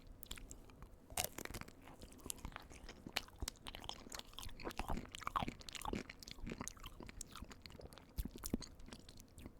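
Close, intimate crunching and chewing of a mini ice cream drumstick with a chocolate-coated waffle cone: irregular crisp bites and mouth sounds, soft overall.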